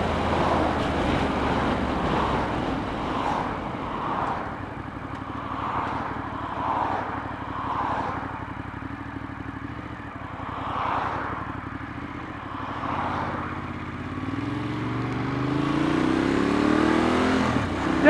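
A Ducati Monster R naked performance motorcycle being ridden, its engine droning steadily under heavy wind rush and climbing in revs toward the end.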